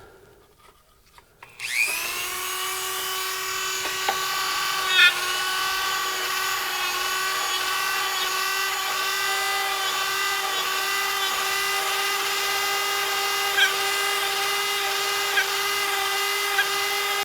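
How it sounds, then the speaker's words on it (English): A Dremel rotary tool fitted with a small buffing attachment polishes the inside of a Kydex knife sheath: a loud, steady high-pitched whine that starts abruptly and holds throughout with slight pitch wobbles and no talking. "I just use my little buffing attachment on my Dremel"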